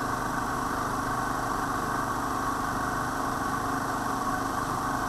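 Steady, unbroken hum and whine of an induction motor coupled to a DC generator running under increasing electrical load, constant in level with no speech.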